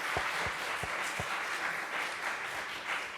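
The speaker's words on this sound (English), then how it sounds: "So how about a round of applause first for our..." An audience at a film office speaker-series event applauds with steady, moderately distant clapping, with a few thumps of handling noise near the start.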